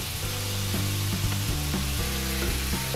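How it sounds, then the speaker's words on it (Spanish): Ground beef and pork frying in a pan over medium heat, a steady close sizzle running throughout with a stirring scrape against the pan roughly every half second. "Vamos a revolver muy bien para que se integren ambas carnes."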